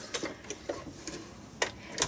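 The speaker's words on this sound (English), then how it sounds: "Okay, so I'm just stitching down the middle" A sewing machine stitches down the middle of a paper Christmas tree card, giving soft irregular ticking and tapping clicks up close, with quiet pauses between them.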